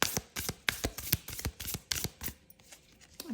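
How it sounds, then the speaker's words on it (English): A tarot card deck is shuffled by hand, giving quick riffling bursts in a brisk, uneven rhythm, close up and quiet with no talking. "and then obviously you shuffle your deck"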